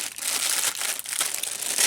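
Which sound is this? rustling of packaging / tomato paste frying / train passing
rustling of packaging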